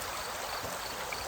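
A steady stream of running water rushes and trickles in a calm natural setting, a soft, even broadband wash with no voices.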